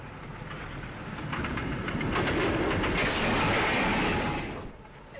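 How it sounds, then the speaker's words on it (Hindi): A train crossing a railway track on the Singimari bridge in Rangpur rumbles past at a steady, broad roar that swells in the middle and eases toward the end, with faint rail clatter and no voices. "ट्रेन ने टक्कर मार दी।"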